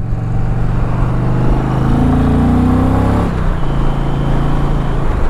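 An Indian motorcycle, a Pursuit or Roadmaster touring bike, accelerates on the road to overtake, its engine droning loud and steady with a rising pitch before easing back. No one speaks.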